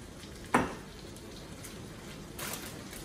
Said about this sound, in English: And it's raining, a rainy night in Georgia.